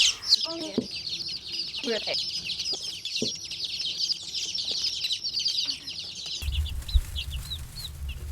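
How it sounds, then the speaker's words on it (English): Dense, continuous high cheeping of many meat chicken chicks up close, with occasional louder clucks and a low rumble joining near the end. "There's the chicks."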